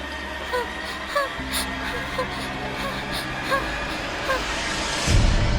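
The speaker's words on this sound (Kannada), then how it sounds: "ಅವರು ಜೋರಾಗಿ ಏದುಸಿರು ಬಿಡ್ತಾ ಇದ್ದಾರೆ" Heavy panting breaths come from a frightened person who has fled into a room and shut the door in a horror story. The breaths are fairly faint and repeat rhythmically, about once a second, over a low background hum.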